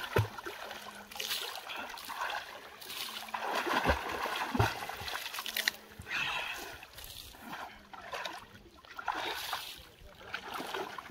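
Water sloshing and splashing as someone swims in a small natural spring-fed pool, an irregular run of close, moderately loud splashes.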